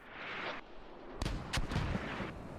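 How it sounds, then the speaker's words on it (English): Mortar rounds land in a military shooter, two or three heavy booming impacts over a steady rushing backdrop, each a dull thud with a short rumble. "And we've got mortars."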